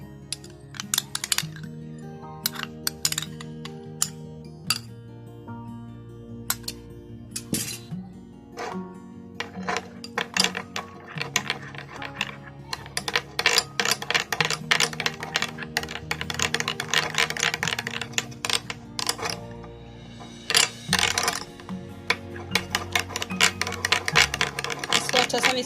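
Ketchup and mayonnaise sauce being stirred together in a bowl for a zinger burger: a spoon makes a quick run of sharp clicks and taps against the bowl over steady background music.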